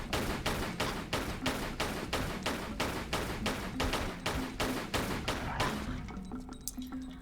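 Steady, evenly spaced gunshots fire in a Tomb Raider custom level, about a dozen loud cracks at a brisk regular rhythm, each with a short ringing tail, ending in scattered smaller clinks and debris as the shooting stops.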